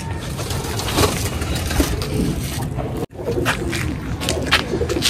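Andha pigeons, a high-flying breed, coo softly close by over steady loud background noise, with a brief dropout midway and no talk.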